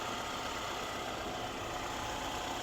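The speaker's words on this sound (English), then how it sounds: "there's that 2-liter turbocharged 4-cylinder" The 2.0-liter turbocharged four-cylinder engine of a 2023 Jeep Wrangler Rubicon 4xe idles under the open hood, giving a constant low, broadband hum with no talk over it.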